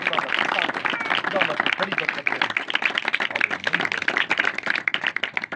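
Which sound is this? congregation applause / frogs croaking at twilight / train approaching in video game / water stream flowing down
congregation applause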